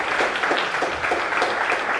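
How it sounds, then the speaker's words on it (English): Steady, dense clapping from a conference audience, sustained evenly for the full two seconds with no voices standing out. "Can we give them a round of applause?"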